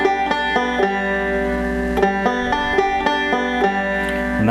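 Forward-backward roll picked on the strings of a banjo-style instrument: a quick, even stream of bright plucked notes cycling in a repeating pattern, close and clear with no voices.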